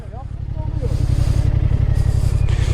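A car engine idles low and steady while creeping at half clutch during a driving test, its throb never rising in pitch, close and fairly loud, with a person talking over it.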